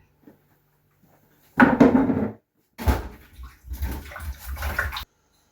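Fresh tomatoes are rinsed under running water in a home kitchen, two bursts of splashing flow separated by a short pause, close and fairly loud with no speech.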